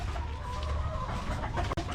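Hens cluck softly and steadily close by, over a constant low rumble with a brief click near the end.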